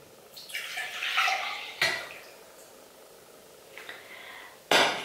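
Warm liquid poured from a pan back into a jug while making chałka dough: a short splashing pour, a sharp clink, a quieter trickle, then a closing knock against the container, all close by.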